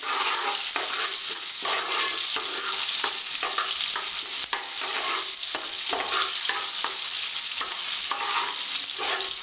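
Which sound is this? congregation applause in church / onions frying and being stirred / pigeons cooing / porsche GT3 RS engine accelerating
onions frying and being stirred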